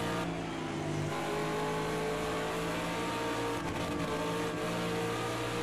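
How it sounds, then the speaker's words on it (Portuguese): A BMW race car in Project Cars 2 at Bathurst drones loudly and steadily from on board, its engine note holding a continuous, even roar throughout. "Estou pilotando um BMW."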